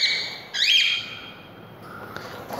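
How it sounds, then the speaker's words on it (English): A pet bird chirps right beside the microphone indoors, with a bright whistled call, a short squawky burst and a few fainter tweets trailing off, with no one talking. "Sorry for all the weird noises in the background, because I'm standing right beside my bird."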